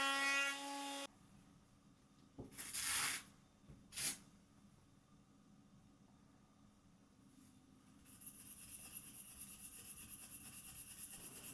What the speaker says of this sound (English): I still tend to find myself hand sanding